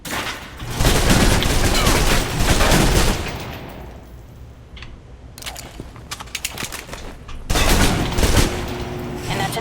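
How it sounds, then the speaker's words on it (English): Submachine gun fire in the Alpha Protocol video game: loud, rapid automatic bursts at the start and again near the end, separated by a quieter stretch. "Now for your submachine guns. If you're trapped in close quarters with multiple opponents, the SMGs can help clear the room quickly."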